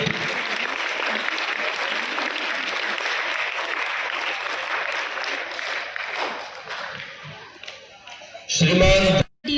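Loud, dense applause from a crowd at a school honouring ceremony, sustained for several seconds before fading, followed by a brief voice and a short sharp burst at the close.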